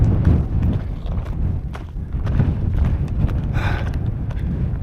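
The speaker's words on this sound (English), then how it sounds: "still a bit bloody windy up here." Low, rumbling wind on a high viewpoint above Otley buffets the microphone in gusts, with some scattered knocks and light crunching, like footsteps on a path.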